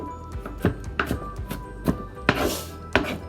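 A kitchen knife chops onions on a cutting board in a home kitchen. About ten uneven, close, dull thunks land at an irregular pace, with no talking.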